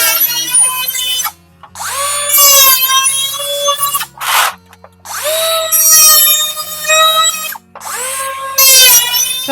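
A power tool grinds and whines across the ridges of a corrugated roof panel in several loud bursts, with brief pauses between cuts and a rising, straining pitch.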